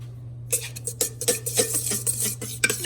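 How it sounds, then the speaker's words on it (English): A knife stirs a yeast mixture in a bowl for yeast rolls, giving a run of close, quick scraping clinks and taps against the bowl with no talking. "I'm stirring with a knife"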